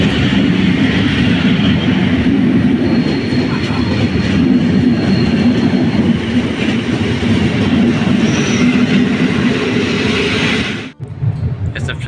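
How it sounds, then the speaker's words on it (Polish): A passenger train bound for Katowice rumbles loudly and steadily from inside the carriage, with a constant roar and faint rail clatter for about eleven seconds before the noise drops off abruptly. "Ale jadę sobie pociągiem"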